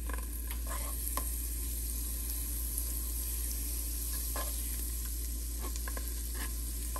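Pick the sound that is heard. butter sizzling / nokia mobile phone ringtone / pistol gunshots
butter sizzling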